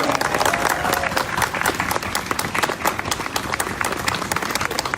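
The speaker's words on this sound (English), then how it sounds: "Let's give Congressman Sarbanes another round of applause" Sustained audience applause fills the room after a congressman's speech at a political event, dense steady clapping with a few louder claps standing out and faint crowd murmur, no speech on top.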